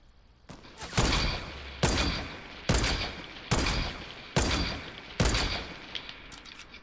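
Video game gunfire rings out in six evenly spaced loud bursts, each a sharp crack followed by a decaying rumble, with faint rattling between them.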